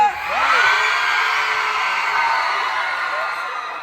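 A hall full of girls at a concert screams and cheers at once, a loud, sustained shrill roar with whoops rising above it that holds steady for several seconds and eases slightly near the end.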